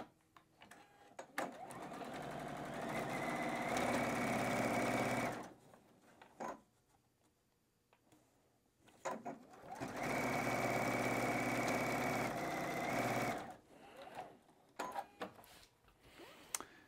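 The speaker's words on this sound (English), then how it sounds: "Now I can just flip it and stitch it here." Sewing machine stitching batik quilt block pieces together: two long steady humming runs of several seconds each, close and loud, separated by quiet pauses with light handling sounds.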